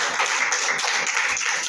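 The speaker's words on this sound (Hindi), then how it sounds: "ताली बजाइए" Applause from an audience at a school display of Chandrayaan-3 moon mission models made by students, a dense, steady patter of many hands clapping throughout, fairly close and continuous.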